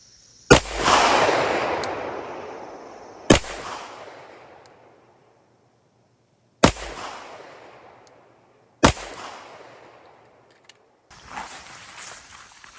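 Four sharp handgun shots from a CZ 75 SP-01 fired at a target, spaced a few seconds apart, each loud crack followed by a long decaying echo, with quiet handling noise between and after.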